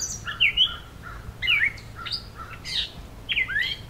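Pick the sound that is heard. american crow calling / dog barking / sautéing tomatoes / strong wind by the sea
american crow calling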